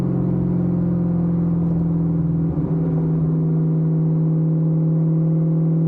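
A 1999 Kenne Bell supercharged Cobra engine holds a steady, loud, droning hum at around 2200 rpm, a close, even tone with a brief wobble midway and no voices over it.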